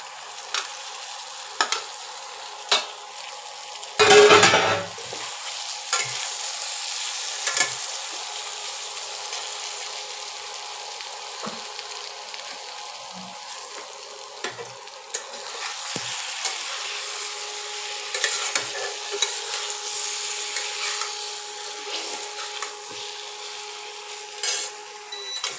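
Soya chunks and potatoes fry with cumin in a pan for an egg soya curry, a continuous close sizzle broken by repeated scraping stirs of a spatula and a loud clatter early on, with no speech.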